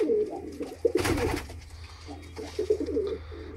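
Sialkoti black-faced pigeons coo in repeated soft, throaty phrases at close range, with a short burst of wing flapping or rustling in the middle and a low hum underneath.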